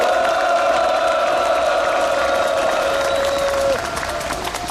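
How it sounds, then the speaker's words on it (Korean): Crowd applause and cheering at a Korean labour rally by SK Broadband irregular workers outside an SK Group building, with a sustained tonal whistle or shout riding over the clapping before it cuts off and the noise drops. "큰 박수 부탁드립니다"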